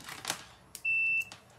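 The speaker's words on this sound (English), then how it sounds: "Just grab a multimeter on continuity mode. It's going to beep if there's a connection." A multimeter in continuity mode gives one short, clear, high-pitched beep about half a second long, heard amid soft handling noises.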